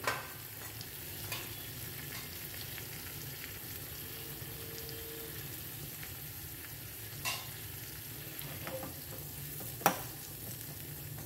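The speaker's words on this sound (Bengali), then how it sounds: "বাটারটা যখন মেল্ট হয়ে যাবে আমি এর মধ্যে একটুখানি কুচনো পেঁয়াজ দিয়ে দেবো, আর দিয়ে দেবো কয়েকটা গোটা জিরে" Chopped onion and whole cumin seeds fry gently in melted butter for a chicken stew, a soft continuous sizzle close by with a few light clinks of a utensil against the pot.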